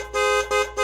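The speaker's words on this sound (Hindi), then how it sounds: "लेकिन चूहा किसी तरह आजाद होकर हॉर्न बजाने लगता है।" A cartoon car horn honks three times in quick succession, each a short, bright, buzzy toot. The honks are loud and close, with no voices.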